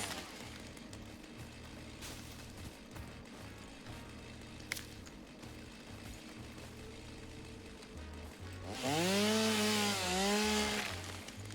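A chainsaw from the video game Satisfactory drones steadily through the background, then swells into a louder revving whine with rising and falling pitch near the end.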